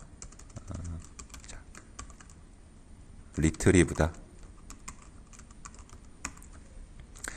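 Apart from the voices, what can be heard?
computer keyboard typing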